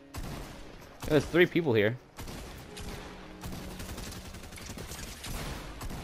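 Fortnite gunfire: a brief cluster of rapid shots early on, then faint scattered shots further off while players talk over voice chat.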